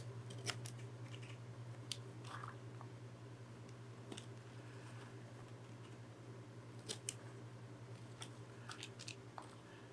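Scissors cut leather to size for a shoulder holster thumb break, giving quiet, scattered snips and crisp clicks over a low steady hum, close and alone.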